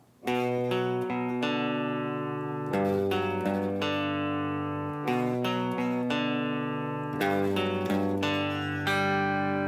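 Clean rhythm guitar plays the intro of a song, ringing arpeggiated notes and sustained chords repeating in phrases, close and alone with no voice.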